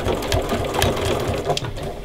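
A sewing machine stitches the mitered binding on a placemat with a steady, close, rhythmic mechanical whir and clatter that carries on alone throughout.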